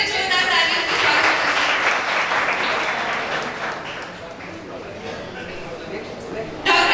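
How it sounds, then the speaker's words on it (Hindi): Loud audience applause at a national icon award ceremony welcoming a guest to the stage, dense sustained clapping that fades somewhat, then swells again at the very end, with voices mixed in. "एक बार फिर से जोरदार तालियों से स्वागत"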